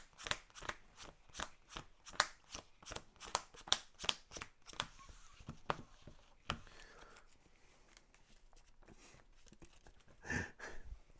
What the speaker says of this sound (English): gotta shuffle my deck.